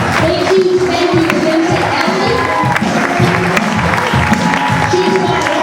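An indoor audience at a charity fashion show claps steadily and densely for models on the catwalk, sustained applause with faint crowd murmur.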